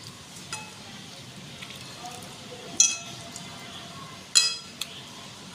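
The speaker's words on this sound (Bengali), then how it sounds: "তো সেদ্ধগুলো মিক্সিং বলে নিয়ে নিচ্ছি।" Boiled tomatoes and chillies are put into a mixing bowl, with a few sharp clinks of utensil on bowl against a quiet kitchen background.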